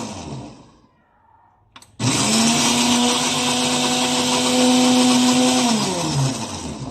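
A blender blending strained ají escabeche chili peppers kicks on abruptly and runs with a loud, steady whirring drone, its pitch dropping slightly as it winds down at the end.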